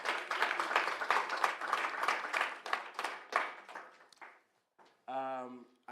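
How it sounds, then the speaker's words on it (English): Audience applause at an Oxford Africa Society talk on social movements and good governance, a dense crowd clapping steadily for about four seconds, then tapering off before a brief spoken voice enters near the end. "So let's give an applause to him."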